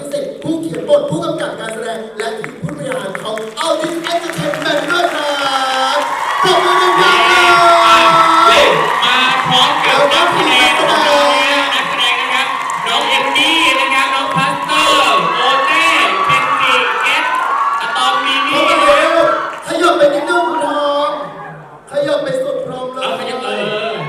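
Audience at a film premiere cheering and shouting for the cast, a loud sustained crowd roar with whoops swelling and lasting nearly the whole stretch, dipping briefly near the end.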